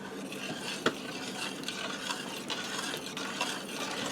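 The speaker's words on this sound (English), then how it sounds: "give this a stir around" Sour cream and cream cheese being stirred into hot pasta in an Instant Pot, with soft scraping and clinking of a utensil against the metal pot, including one sharper clink near the start, at moderate volume and no talking.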